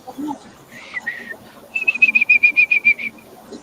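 A short run of bright, evenly spaced whistled notes, about ten in quick succession, preceded by two longer whistle tones, with faint background voices.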